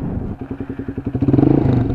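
A close Minerva 150 VX motorcycle exhaust rumbles with a rapid, throbbing pulse that quickens slightly as the revs rise.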